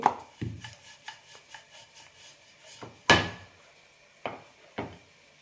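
Thick chirota dough being rolled out on a board, giving soft rubbing strokes with a few sharper knocks and thumps as the rolling pin shifts, close and fairly quiet with no talk.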